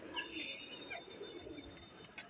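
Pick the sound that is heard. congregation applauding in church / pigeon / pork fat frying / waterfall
pigeon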